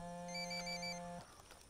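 A telephone rings in the Ghost Recon Wildlands video game, a steady electronic ringtone with layered tones that holds for about a second and then cuts off, leaving faint background noise.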